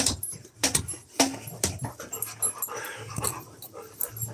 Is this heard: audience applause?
no